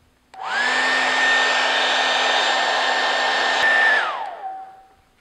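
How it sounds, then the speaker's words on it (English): A hair dryer heating repair glue on an inflatable boat patch whirs up and runs loud and steady at close range for several seconds, then winds down to a soft whine. "For best results, heat the glue up with a hairdryer."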